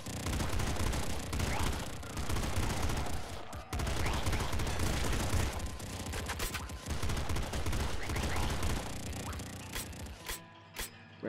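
Nonstop gunfire in Nuclear Throne Ultra Mod, shotgun blasts with bouncing shells in a dense, loud barrage that thins near the end.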